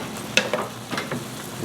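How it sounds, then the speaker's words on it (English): Turmeric being stirred into onions frying in a pan for chicken jalfrezi, with a steady low sizzle and a few scraping spoon strokes, close and fairly quiet, no talk. "So I'm going to add this turmeric and stir it in, give this a lovely color, and I'm going to continue frying, get that heat up, these onions"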